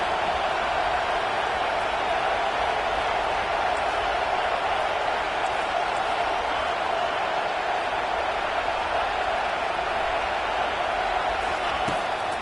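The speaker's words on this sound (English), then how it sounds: "Decibels rising as the crowd gets behind this defense on 3rd down." A college football stadium crowd in NCAA 25 roars steadily for the defense on third down, a dense, loud, unbroken wash of cheering that fills the whole stretch without letting up.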